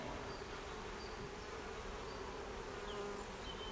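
Honey bees buzz steadily in a dense, continuous drone at low level, with a few individual insects passing close; no one speaks.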